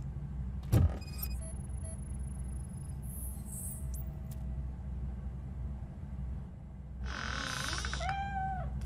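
A cat meows inside the video game RoboCop: Rogue City, a short rising cry near the end over a steady low game ambience, with a brief thump earlier and scattered electronic tones.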